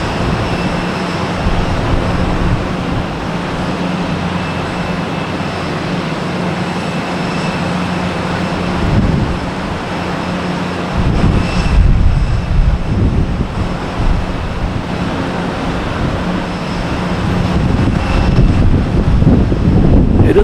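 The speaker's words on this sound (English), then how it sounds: "we have Cape Air coming in from Nantucket" A Cape Air plane arriving from Nantucket at Boston Logan Airport at night, a continuous engine drone against wind and airport background that swells slightly toward the end, with no voices.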